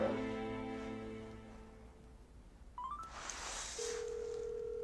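A phone call goes unanswered: a ringing tone fades out, a quick run of dialing beeps follows, and then a steady tone holds, all quiet and close.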